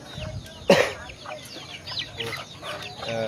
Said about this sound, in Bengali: তারা কিন্তু তাদের মুরগিকে আদা খাবার দিচ্ছেন